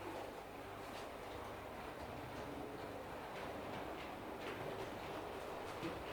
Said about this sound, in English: my train has for some reason gone into the middle lane, into the middle track